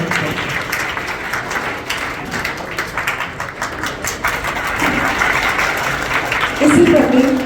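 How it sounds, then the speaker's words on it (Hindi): Students clap at a school Olympiad prize ceremony to welcome a guest handed a bouquet, a continuous crowd applause that swells toward the end, with a voice heard over it. "हमारे होनहार विद्यार्थियों की जोरदार तालियों के बीच उनका स्वागत करें।"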